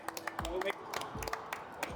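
Runners at the finish of a 63 km ultramarathon around a ring road clapping for themselves, scattered individual claps popping out over chatter and voices nearby, brief and uneven rather than a full ovation.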